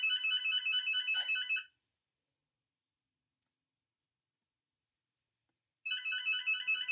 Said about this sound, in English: I'm so sorry for the phone ringing.